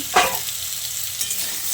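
Potatoes sizzle steadily as they fry in a pan, with a stirring scrape near the start and a continuous hiss throughout, close up and with no voices.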